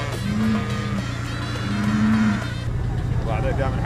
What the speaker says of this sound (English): I negotiated my way on board a cargo ship that transports cattle